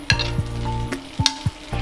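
Chopped tomato dropped into a pan of onion and green chilli already frying in oil, giving several sharp stirring scrapes and bursts of sizzle over a low, steady fry, close by.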